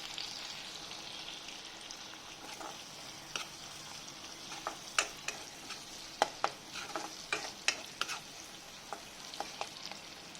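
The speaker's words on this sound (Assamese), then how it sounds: "এয়া পিঁয়াজখিনি ভজা হৈ গৈছে, ধুনীয়া এটা ৰং আহিছে, লাহে লাহে গল্ডেন ব্ৰাউন হ'বলৈ আৰম্ভ হৈছে।" Sliced onions frying toward golden brown in a pan for chicken curry make a soft, steady sizzle, with scattered crackles and stirring scrapes in irregular bursts.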